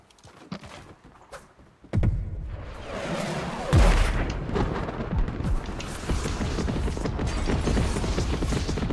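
Airstrike explosions in the video game Fortnite, a sudden heavy blast followed by rolling booms and a continuous crackling barrage, loud and dense throughout after a quieter opening.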